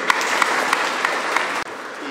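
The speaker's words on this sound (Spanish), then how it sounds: "quiero dedicaros un fuerte aplauso porque os lo merecéis" Dense, steady audience applause at the San Juanillo town festival in Azagra. It is loud and close, with faint rhythmic clap accents, and cuts off briefly near the end before resuming.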